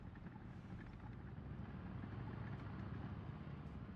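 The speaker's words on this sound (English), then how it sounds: "Sounds like an M18." Engine of an M18 tank destroyer in the War Thunder video game, a low, steady rumbling drone heard at a distance, faint and continuous with no talk over it.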